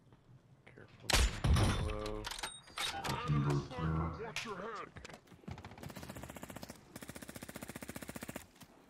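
Rapid automatic rifle fire rattles in a low-gravity battle royale video game mode, with scattered shots under players' overlapping voices early on, then a long, steady burst of evenly spaced shots toward the end.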